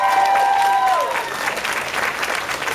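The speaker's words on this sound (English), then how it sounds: "Please, can we give another round of applause for Carla?" A crowd at a book festival poetry panel gives Carla a steady round of applause, with dense continuous clapping throughout and a brief high vocal whoop near the start.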